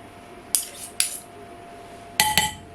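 A metal utensil tapping on the rim of a dish while tandoori chicken fillet is prepared, four sharp, bright clinks in two pairs, close and crisp over a quiet kitchen background.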